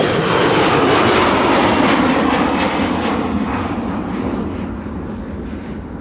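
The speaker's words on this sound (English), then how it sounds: "that's the second C-17 of the show already" A C-17 military transport aircraft flies past near Amsterdam Schiphol Airport, a loud, broad jet roar that holds steady before slowly fading as it moves away.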